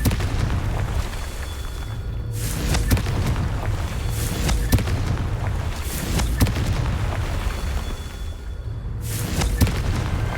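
Confringo spell blasts in Hogwarts Legacy, a series of loud booming explosions spaced a few seconds apart, each a sharp burst with a rumbling tail over constant low background noise.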